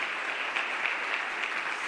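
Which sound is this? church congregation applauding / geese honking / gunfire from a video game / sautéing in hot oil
church congregation applauding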